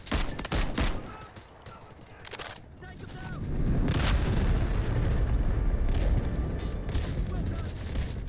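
Artillery explosions in the video game Delta Force: Hawk Ops, a dense barrage of heavy booms and gunfire that swells into a sustained loud rumble, with a voice speaking over the battle.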